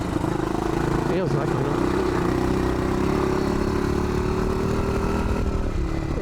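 A 1981 XT500 motorcycle engine held at full throttle, a loud, steady droning roar with a slowly rising pitch that runs the whole time beneath a person talking.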